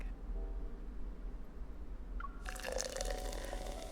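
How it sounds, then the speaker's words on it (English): Clear soda and fresh apple juice poured into a glass, a faint quiet room first, then a bright fizzing, splashing pour starting midway and running to the end. "I pour clear soda into the glass and add the freshly made apple juice."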